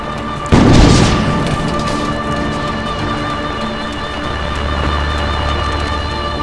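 A workshop is shot and destroyed in the game Assassin's Creed: Brotherhood, a single loud booming explosion near the start that decays into a long rumbling tail beneath steady game music.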